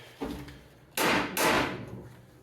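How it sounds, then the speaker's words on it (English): A hammer taps a Mustang's rear frame rail, giving a light knock followed by two louder, close metallic thuds with a short ring. "Gonna give her a little tap now. Just tappy tap."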